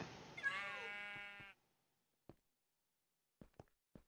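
A sheep bleats once in the Minecraft video game, a clear wavering call lasting about a second, followed by a few faint short clicks in near silence.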